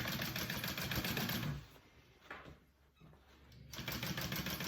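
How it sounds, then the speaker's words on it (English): A sewing machine runs a top stitch along the pocket of a slouchy hobo bag, a steady close whir that slows and drops away midway, then picks back up to a full run. "So I'm going to go ahead and give my pocket a top stitch here."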